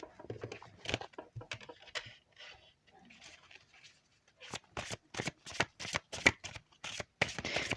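Tarot cards shuffled by hand for a card reading, soft rapid riffling and patting in irregular bursts, growing louder and denser toward the end, close and without talk.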